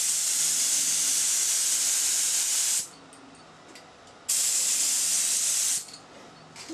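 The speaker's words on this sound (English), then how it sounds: "I'm going to be spraying up and down." An HVLP compressor-driven spray gun sprays wood finish in two long, steady bursts of loud, bright hissing, each cut off sharply and followed by a quieter background hum.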